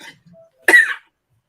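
A single sharp cough bursts out after a brief faint sound, then silence.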